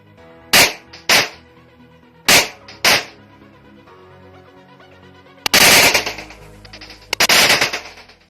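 Blank-firing Kuzey 1911 and Kuzey Glock19 pistols, some shots with a suppressor: four sharp cracking shots in two quick pairs, then two louder, longer bursts of gunfire with ringing decay, no talking.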